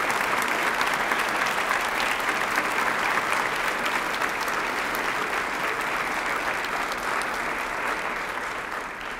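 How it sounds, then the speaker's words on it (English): Large audience at a university event for a newly named chancellor applauds a leadership team, a dense, continuous roar of clapping that stays loud throughout and eases only slightly at the end. "And I'd ask you to give him a round of applause for a wonderful leadership team."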